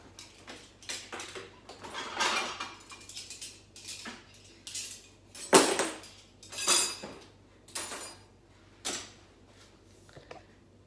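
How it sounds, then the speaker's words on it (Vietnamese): Dishes and cutlery being loaded into a dishwasher clink and clatter in bursts of sharp clanks and taps, close by, with quiet pauses between handling sounds. "Những cái chén bát của mình chỉ là tráng sơ lại hơi và mình phải bỏ lại"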